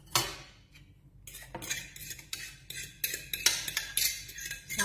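Mashed banana being stirred in a bowl for a banana cake, with a utensil clinking and scraping against the bowl in quick, uneven taps that are close and moderately loud, with no talking.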